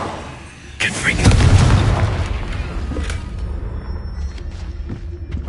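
A Confringo fire spell blasts in Hogwarts Legacy, a loud booming explosion that swells and rumbles for a couple of seconds before fading into a softer hiss with faint magical chimes.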